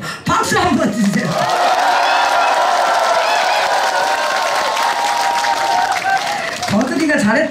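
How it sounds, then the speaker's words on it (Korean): An audience at a live comedy stage show in Daejeon claps and cheers for a contestant, a loud sustained wash of applause with a host's voice heard at the start and end. "우리 정이가 잘했다고 하시면 박수 한번 주세요"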